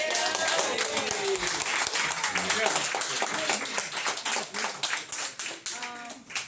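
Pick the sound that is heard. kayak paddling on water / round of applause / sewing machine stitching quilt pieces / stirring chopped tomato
round of applause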